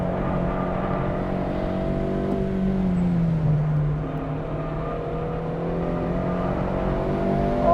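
A Honda Civic Si on a race track, its engine holding a steady drone from inside the cabin, with a slight dip and rise in pitch as it drives, and no talk.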